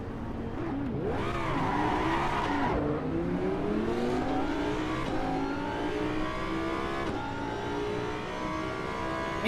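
A race car in the Assetto Corsa EVO racing game accelerates hard, its engine note climbing through gears with brief dips at each shift, loud and steady for about nine seconds without voices.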